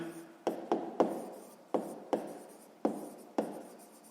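A pen writes on paper up close during a sixth-grade maths exercise, giving about eight short scratchy strokes in a halting rhythm, each with a sharp onset that trails off, with no other sound around them.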